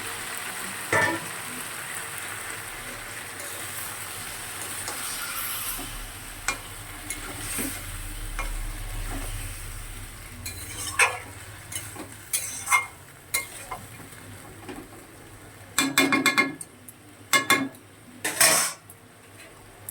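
Chicken simmers in a pan after a splash of water from the marinating bowl is added, a quiet steady sizzle broken by several sharp clinks and scrapes of a utensil against the cookware.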